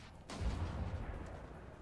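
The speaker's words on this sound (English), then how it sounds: "Big cannon shot here coming out from the Mastodon solar engine" Big cannon shot from a Mastodon solar engine in a Total War Warhammer 2 battle, a single muffled low boom rolling into a sustained rumble, moderately loud with no talk.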